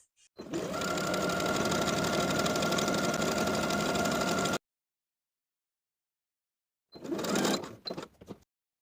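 Sewing machine stitching buttonholes on a tie-waist blouse, a steady close mechanical whirr for about four seconds, then silence, then a shorter burst of stitching.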